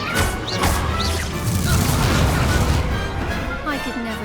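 Incendio fire spell cast during a duel in Hogwarts Legacy, a loud whooshing blast with crashing impacts and roaring flame, dense and continuous, with game effects layered over it.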